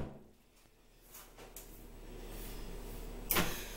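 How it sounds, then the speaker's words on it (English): An interior door is shut in a home with a single short, sharp thud near the end, set against a quiet room hum with faint bumps before it. "Let me close this door."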